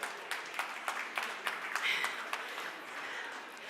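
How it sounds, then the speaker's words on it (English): Keynote audience applause at a conference session, a steady wash of many hands clapping with sharp individual claps standing out, moderately distant and fairly quiet, with no talking over it. "Give yourselves a round of applause."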